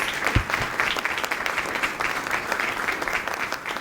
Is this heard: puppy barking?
no